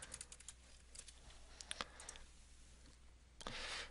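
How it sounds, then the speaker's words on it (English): Fingers type login details on a computer keyboard, a quick string of light, close clicking keystrokes that is faint against a low background hum. "I'm going to type in my login information."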